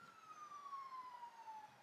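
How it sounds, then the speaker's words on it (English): Police sirens wailing outside, a steady descending tone heard at moderate distance over faint background rumble, with no talking. "All these sirens."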